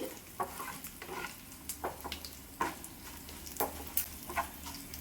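Dried red chillies and garlic frying in hot oil while pickle is made from ivy gourd, giving a steady close sizzle broken by several sharp crackles and pops; no one talks.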